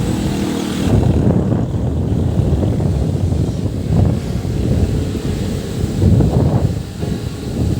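A strong, roaring wind in Pililla, Rizal, batters the microphone steadily, with heavy low-frequency rumble and surging gusts throughout.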